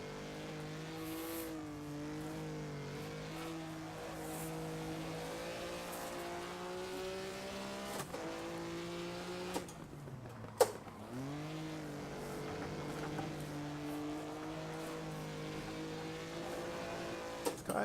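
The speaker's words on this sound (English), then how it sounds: "Really heavy on the downshift blips." Race car engine in Assetto Corsa, a sustained revving drone with repeated quick throttle blips on downshifts, pitch sweeping down and up, plus a brief tire squeal midway, fairly quiet.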